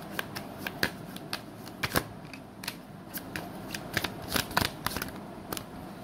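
Tarot cards being shuffled and drawn, soft clicks and flicks of cards repeating irregularly, close but fairly quiet over a faint steady room hiss.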